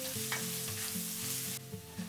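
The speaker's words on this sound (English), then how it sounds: "add the chopped garlic. Constantly stir." Chopped garlic fries over low heat while being stirred constantly for a Thai clear pork noodle soup, giving a steady, close, bright sizzle with a low tonal hum or soft music underneath and a slight drop in level near the end.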